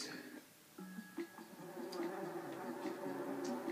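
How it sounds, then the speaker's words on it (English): Bees buzz in the video game Donut County, a thin insect drone with tonal game sounds layered over it, fairly quiet and continuous. "Oh, help me, I'm covered with bees."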